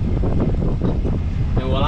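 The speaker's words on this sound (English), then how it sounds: "the day is windy today, actually very windy" Strong wind buffets the microphone with a constant roaring rumble, and a voice speaks faintly beneath it.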